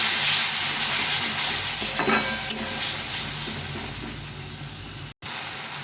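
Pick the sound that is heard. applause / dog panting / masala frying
masala frying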